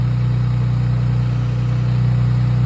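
Infiniti Q60 Red Sport fitted with Stillen intakes idles steadily, a close, loud and even engine drone with a strong low hum that holds constant throughout, no revving and no voices.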